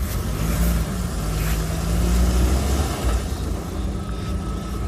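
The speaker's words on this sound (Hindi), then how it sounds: "आपने देखा रहेगा कि जो टायर्स थे वो ज़रा स्पिन हो रहे थे, बराबर उन्हें ट्रैक्शन नहीं मिल रहा था।" A Mahindra Thar drives off-road on slippery ground, its tires spinning as it struggles for traction: a loud, continuous engine roar and rumble that swells and eases slightly, with no voices.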